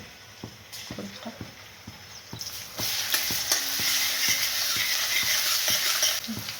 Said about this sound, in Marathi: यामध्ये आता आलं आणि लसूणीची पेस्ट टाकत आहे.